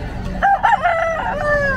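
A fighting rooster crows once, loud and close, a wavering multi-part call drawn out at the end, heard among the background of a pet market in Bocaue.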